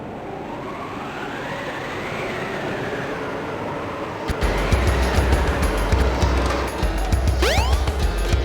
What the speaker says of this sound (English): The train headed for Station Square.